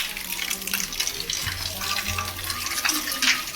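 Heavy rain pours down outside, a constant hiss of water that holds steady, with a few faint voices and low background noises mixed underneath.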